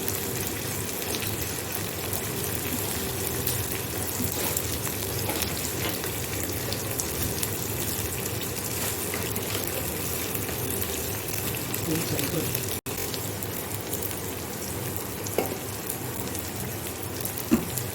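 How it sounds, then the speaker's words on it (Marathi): Onion sautés in a pan for a prawn tawa fry, a steady close-up sizzle that hisses on without a break, with an occasional light tap of a utensil. "छान असं परतून घ्यायचंय कांदा"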